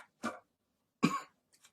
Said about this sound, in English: Oh my, dry heaving.